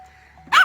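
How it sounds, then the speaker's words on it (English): A single sharp, loud bark from an old dog close by, bursting out after a brief quiet stretch with faint background noise. "you don't need to bark."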